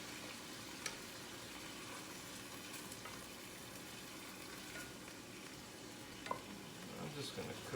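Anchovies cooking down in a pan, giving a low continuous sizzle and bubbling with occasional faint stirring clicks, quiet and close with no talk.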